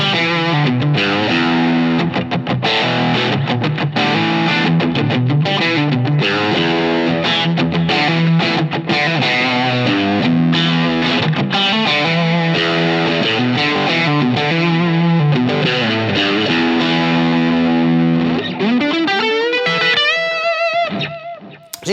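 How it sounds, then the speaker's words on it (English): An electric guitar runs through a Line 6 Helix Doom amp model captured with a 57 mic, playing loud, heavily distorted chugging riffs and chords continuously, ending in a sliding, ringing flourish. "So here's what the Doom amp sounds like with that 57 mic."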